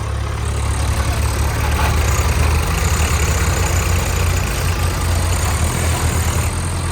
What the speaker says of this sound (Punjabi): ਆ ਟਰੈਕਟਰ ਜ਼ੋਰ ਨਹੀਂ ਮਾਰ ਰਿਹਾ